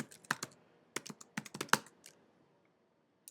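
A few keystrokes on a computer keyboard typed into a Mac Terminal, separate close clicks in a short irregular burst that fades into near silence.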